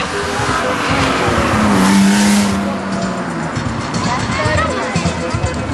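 BMW stunt cars turning at a stunt show, a long high tire squeal over roaring engines and a noisy crowd, with an announcer talking over the action.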